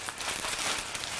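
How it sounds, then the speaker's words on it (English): Parchment paper crumpled by hand in a home kitchen while baking banana bread and muffins, a brief, quiet crinkling rustle with no talk. "In order to fit the parchment paper in a little bit better, we're going to crumple it up first."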